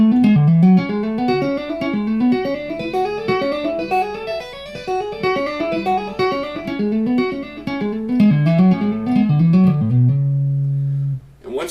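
A guitar plays a two-hand tapped major scale as a quick, even run of clear notes climbing and falling across the strings, ending on a held note, alone and fairly close.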